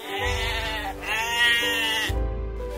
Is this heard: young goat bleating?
yes